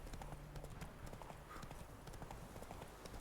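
A horse's hooves clop in a rapid, steady gallop across rough ground in The Witcher 3 video game, close and continuous, with ambient game sound underneath.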